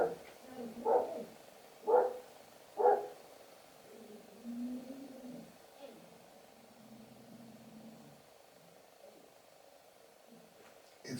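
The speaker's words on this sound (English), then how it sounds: "it's a dog." A dog barks three times in a steady rhythm, moderately near, followed by quieter murmuring sounds and low background noise.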